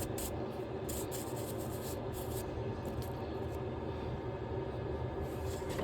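Sandpaper of unknown grit rubs over a wood carving in a continuous close scratching hiss, with repeated strokes marked by faint rhythmic swishes and no speech.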